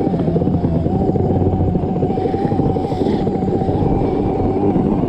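An electric motor on a homemade Razor snow bike runs continuously, producing a steady, loud whine over a rough, buzzing mechanical rumble that barely changes from start to finish.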